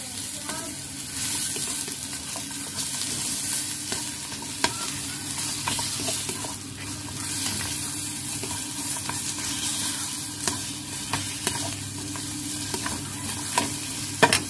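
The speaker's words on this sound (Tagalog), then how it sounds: "Igisa na natin ang ating sibuyas." Onion sautéing in a little oil for eggplant bistek, a steady close sizzle with scattered sharp clicks of a utensil stirring against the pan, no talk.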